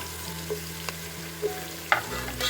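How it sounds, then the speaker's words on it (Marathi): Garlic and onion sautéing in a pan for a traditional Bhogi festival dish, a steady low sizzle with a few soft stirring scrapes and clinks, close and alone. "आता लसूण कांदा चांगला गुलाबी होईपर्यंत परतायचा परतून घ्यायचा गुलाबी होईपर्यंत"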